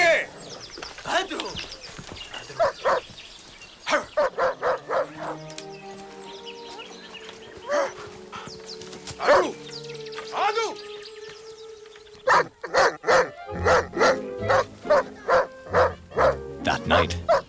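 A village dog barks in repeated bursts of sharp, close barks, with a rapid run of them near the end, amid other background sounds.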